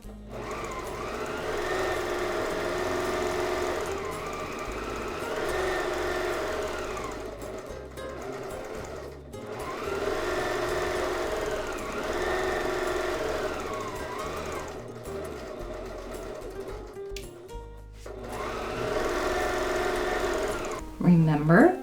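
A home sewing machine free-motion quilting feathers on a quilt, its needle running in a steady, fast continuous whir that drops away briefly twice and resumes, close and loud throughout.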